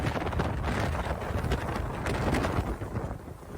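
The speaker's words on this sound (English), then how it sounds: "You can hear that slamming on the hull." Hull of a 1974 23-foot Seacraft slamming through rough waves, heavy wind and rushing water roaring over the microphone with repeated dull thuds from the hull in choppy seas.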